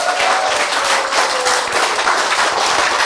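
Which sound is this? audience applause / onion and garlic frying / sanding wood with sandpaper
audience applause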